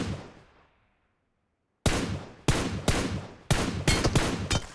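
Rapid bursts of gunfire from a PUBG Mobile match, several sharp loud shots in uneven clusters after a quiet fading start, with no talking over them.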